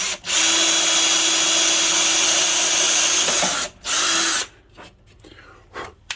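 An Aldi Ferrex drill press whirs steadily through wood for several seconds, briefly stops, spins up again, then cuts off, leaving quiet clicks and handling noises.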